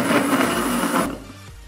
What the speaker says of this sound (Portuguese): Agora é só bater bem rápido. Ó, eu vou ligar bem rápido.